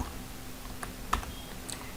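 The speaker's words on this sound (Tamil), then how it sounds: "இப்போ ஏதாவது லெட்டர்ஸை டைப் பண்ணி என்டர் பண்ணுறேன்" Keys tapped on a computer keyboard while entering letters into an Excel sheet, with a few quiet, scattered clicks over a steady low hum and no talking.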